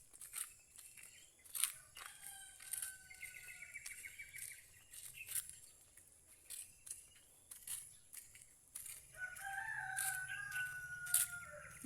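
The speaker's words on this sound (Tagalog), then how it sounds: "Yung pala yung mga manok na naririnig ko hanggang sa atin." Roosters crow repeatedly from a distance across a residential neighborhood, with several overlapping cock-a-doodle-doo calls and some clucking, faint over quiet outdoor ambience.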